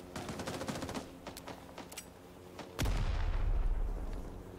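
AC-47 gunship fire in Rising Storm 2: Vietnam, a dense rattling stream of rapid distant gunfire, then a heavy rumbling burst of impacts that swells loud and rolls on through the end.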